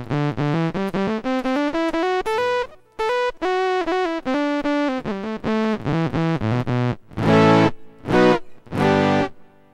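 An Exotica BX1 electric guitar played through a Roland VG-99 modeling patch, heard alone as a run of distinct loud notes climbing and falling, then a few separate heavier distorted chord hits near the end.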